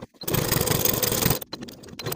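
A sewing machine runs in one steady, buzzing burst of a little over a second while top stitching around the edges of fabric jacket tabs, then stops and a few small handling clicks follow.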